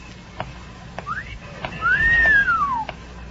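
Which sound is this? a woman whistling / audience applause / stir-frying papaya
a woman whistling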